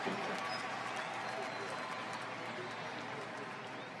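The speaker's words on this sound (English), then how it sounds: "The crowd's on their feet, giving Matsui a round of applause." A World Series baseball crowd in Game 6 of Yankees vs. Phillies applauds and cheers a Yankees home run, a broad, steady roar of distant stadium applause filling the whole stretch, with faint broadcast voices beneath.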